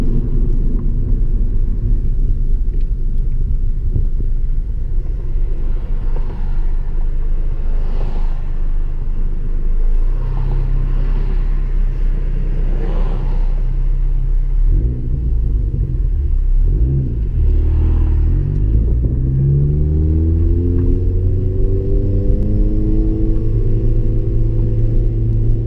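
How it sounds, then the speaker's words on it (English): A Ford Focus ST with a Cobb rear motor mount drones steadily at first, then revs climb with rising harmonic sweeps as it pulls hard in first gear, a loud interior rumble throughout. "I'm gonna try a little 1st gear pull and see if it has any wheel hop at all"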